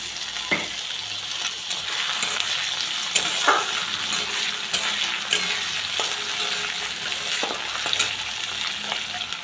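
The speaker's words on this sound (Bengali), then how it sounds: "পেঁয়াজটা ভালো করে ভাজা হয়ে গেছে, টমেটো কুচানোটা দিয়ে দেবো" Chopped tomato frying with onion in a pan for a fish roe and potato curry, a loud steady sizzle with occasional sharp scraping stirs spread throughout.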